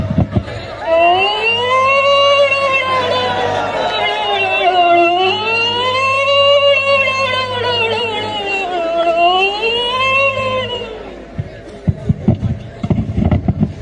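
A wailing siren rises and falls in long sweeping cycles, loud and close, ending with a few clattering knocks.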